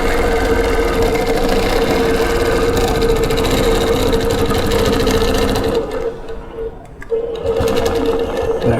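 A Big G longarm quilting machine stitches Baptist fan and straight-line patterns with a loud, steady mechanical whir and rapid needle chatter, pausing briefly near the end before resuming.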